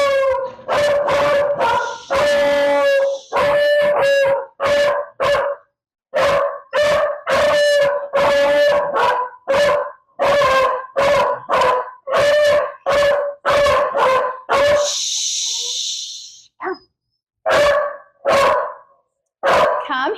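Dogs at home let out a long run of loud, close, repetitive barks and yowling howls in rapid bursts, with a brief pause and a breathy whine midway.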